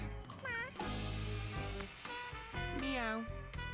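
Cartoon cats in the video game Mewgenics meow repeatedly, several clear rising and falling mews over a soft game backdrop, close and prominent.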